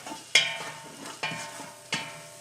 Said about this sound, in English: And it's starting to sizzle.